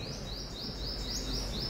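A caged five-colored sunbird chirps in a steady series of short, high, repeated notes over a constant loud background hum.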